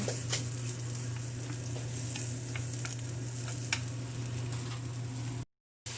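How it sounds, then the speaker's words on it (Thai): Mushrooms coated in sauce stir-fry in hot oil, giving a steady close sizzle with scraping stirs and light ticks throughout, then a brief cut to silence near the end. "เราก็ผัดเห็ดต่อเลยนะคะเห็ดที่เราผสมซอสเมื่อกี้นะคะ ผัดกับน้ำมัน"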